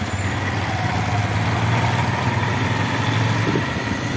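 A motorcycle engine idles close by with a steady, low, even rumble throughout.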